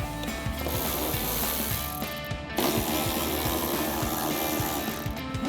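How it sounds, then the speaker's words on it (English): A hand ratchet with an extension and 10mm socket loosening bolts on a 2014-2019 Corvette C7 air box, giving a steady run of fast, close mechanical clicks with a brief pause midway. "Grab our ratchet, extension, and 10mm socket. Take those two out."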